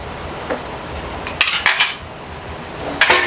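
Shrimp coating stirred in a mixing bowl for coconut shrimp, giving a few bright clinks and scrapes of a utensil against the bowl, close and fairly loud, spaced irregularly with quiet gaps between them.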